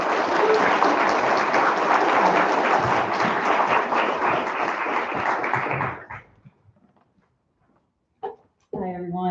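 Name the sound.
audience applause welcoming the reader Laura Walter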